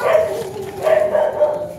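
A dog gives a few short, close barks and yips in quick succession, moderately loud, in an outdoor setting near a school.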